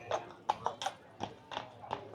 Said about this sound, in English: I heard horse stomping